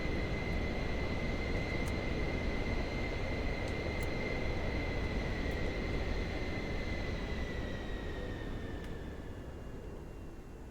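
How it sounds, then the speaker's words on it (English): Twin jet engines of a Pilatus PC-24 in Microsoft Flight Simulator shutting down, a steady turbine roar and high whine that slowly fall in pitch and fade toward the end. "Let's turn off the engines."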